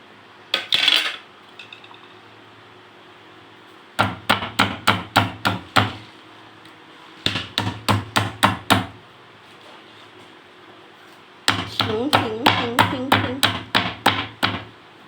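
Herbs are pounded with repeated sharp strikes in bursts of quick rhythmic blows, loud and close, with short pauses between series.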